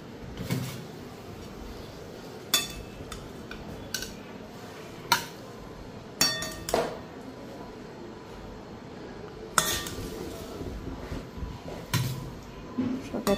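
Plates and dishes clatter as they are set out in a kitchen serving meals with fried flatbread, giving several sharp, separate clinks and knocks spaced through a quiet background.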